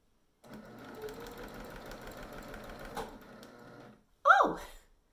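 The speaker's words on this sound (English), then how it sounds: "Oh, I'm sewing." A sewing machine stitching a quilted bag runs in a steady mechanical whir for several seconds, close and clear, then stops before a short burst of voice.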